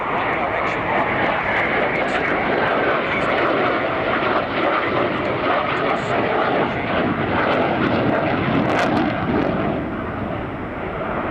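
A Ukrainian Su-27 Flanker's jet engines produce a steady, loud, broadband roar that fills the whole stretch, with someone talking over it.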